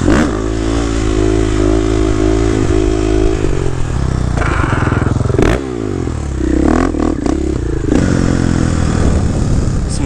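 A motorcycle doing wheelies in a city art district, its engine revving and accelerating loud and close throughout, with scraping and clattering bursts and pitch sweeps as the throttle rises and falls.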